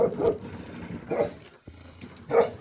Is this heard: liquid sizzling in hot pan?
no